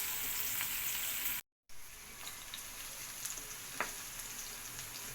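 Chopped onions fry in a pan toward light brown, giving a continuous even sizzle that drops out briefly for a moment, with occasional faint clicks of stirring.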